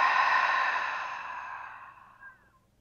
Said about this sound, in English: Inhale through the nose. Fill the body up with your breath. Big open mouth exhale.